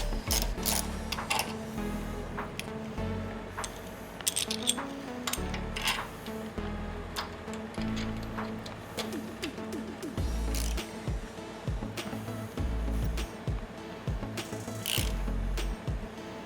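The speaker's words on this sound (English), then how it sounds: "I just take the bolt that holds that light in, out" Ratchet wrench working the bolt that holds a light on a Harley-Davidson Dyna motorcycle, a steady run of close, rapid metallic clicks with a few louder knocks and clatters, no talk.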